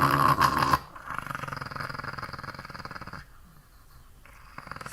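A dog growls low and steadily at close range on a farm, the rumbling continuing for several seconds after a louder opening burst, then softening toward the end.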